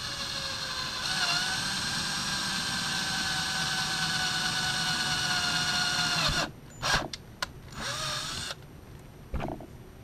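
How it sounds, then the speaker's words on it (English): A power drill whines steadily as it bores through a magnet, its pitch shifting slightly, then stops with a few short bursts of drilling near the end. "I'm going to use the same drill bit, drill straight through the magnet"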